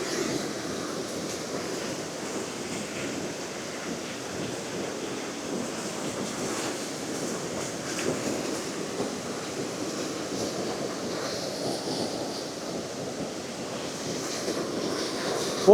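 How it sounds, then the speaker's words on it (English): Rushing torrent of water in Glen Affric, a steady, dense roar of whitewater that holds constant throughout, with faint wind noise over the top. "Well, that's a torrent."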